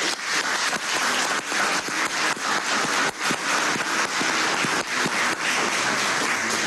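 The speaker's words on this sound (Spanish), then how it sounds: "un aplauso desde aquí" Sustained audience applause at a hospital imaging centre inauguration in Valencia, dense steady clapping throughout with a few louder individual claps standing out, no talk over it.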